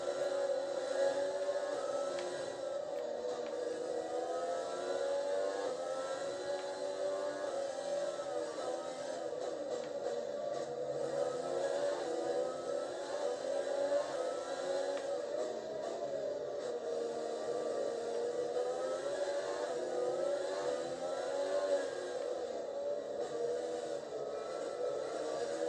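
F1 race car engines in a video game, a Renault among them, whine continuously at high pitch with rising and falling revs across the whole stretch, a dense, steady roar with no talking.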